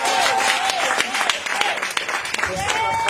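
A church congregation claps to acclaim the Lord, a dense run of fairly close hand claps over a ringing musical tone.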